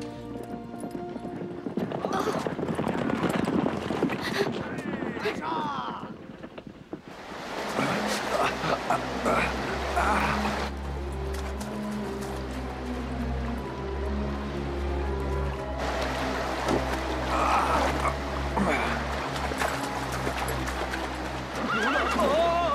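Horse hooves clip-clopping at a gallop with loud whinnying and neighs, a busy outdoor chase scene with music and other voices mixed in, the hoofbeats rhythmic and close throughout.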